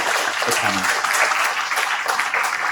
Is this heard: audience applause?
yes